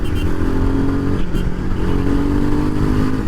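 A Royal Enfield Himalayan 450 motorcycle engine rumbles steadily at close range, a deep, throaty exhaust note that holds even without any revving.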